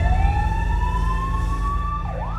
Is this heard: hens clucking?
no